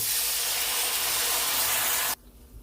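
A loud, steady hiss of water hitting a hot pan, surging for about two seconds then cutting off abruptly into quiet.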